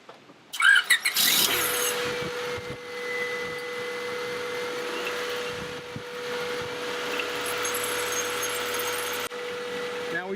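A Honda Civic engine starts with a brief squeal, then settles into a steady idle hum with a constant whine, running close by without talk.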